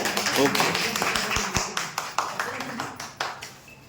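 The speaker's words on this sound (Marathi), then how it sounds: "आपण टाळ्या वाजवू." A crowd at a teachers' college alumni reunion claps in a brisk, thinning round of applause, individual claps growing sparser toward the end.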